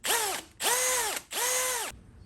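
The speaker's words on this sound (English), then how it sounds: "I'm just gonna get the regular drill out and put this in the vise." Handheld drill boring through a homemade copper head gasket clamped in a vise, for a bored-out 1963 Honda CL72 Scrambler: three sustained whining bursts with a pitch that dips and rises, separated by brief pauses, loud and close, no talk.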